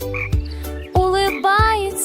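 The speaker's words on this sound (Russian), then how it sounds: "Смешная лягушка прыгает из болота на бревна через туманные болота" A frog croaks loudly and close in a misty swamp, giving a few separate, drawn-out calls with short pauses between them, standing alone with no speech.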